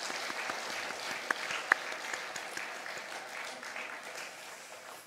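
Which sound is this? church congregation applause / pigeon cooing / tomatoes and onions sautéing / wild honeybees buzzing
church congregation applause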